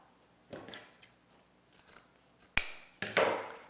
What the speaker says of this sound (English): So you just fold the ribbon, cut across the edge, cut from the folded side